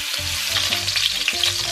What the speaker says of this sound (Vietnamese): Mình sẽ chiên thịt nhanh ở trên lửa to để cho cái phần bên ngoài nó xém cạnh như thế này.